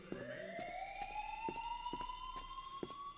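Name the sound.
fire alarm announcement in the video game Who is Abby?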